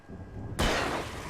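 A single loud gunshot in the video game Alan Wake, a sharp broadband blast that hits suddenly after a quiet low rumble and rings out with a sustained decay.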